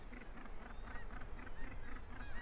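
Seabird colony at Bempton Cliffs, with gannets and herring gulls returning for summer, giving off a raucous run of repeated honking calls in a steady rhythm that stays loud and close for over two seconds.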